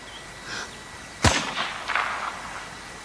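A single sharp sniper rifle shot cracks out loud and close in open air, its report rolling away and echoing for about a second afterward.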